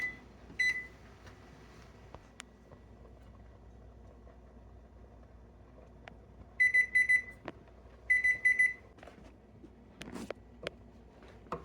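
Kitchen timer alarm going off while soup simmers, two quick bursts of rapid electronic beeping against a quiet kitchen background with a few faint clicks.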